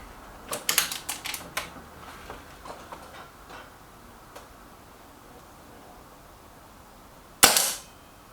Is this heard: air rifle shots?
yes